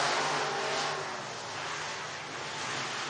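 Dirt-track race cars roaring through an IMCA heat race at Boone Speedway in Iowa, a dense, steady engine wash from several cars at a distance, swelling slightly as they pass.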